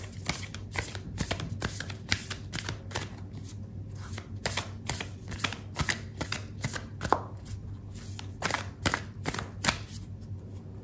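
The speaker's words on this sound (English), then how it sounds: "I'm going to pull out an oracle card for you" Oracle cards being shuffled by hand, a quick run of crisp papery riffles and snaps in uneven bursts, close and quiet over a low steady hum.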